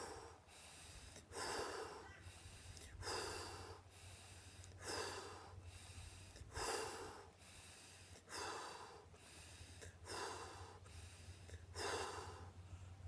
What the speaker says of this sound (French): sur une trentaine de mouvements respiratoires, inspire, expire, on va se retrouver à augmenter le rythme, à augmenter la rapidité.